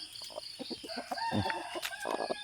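Chickens clucking close by, a quick run of short throaty clucks with a higher squawk mixed in, lively and unbroken.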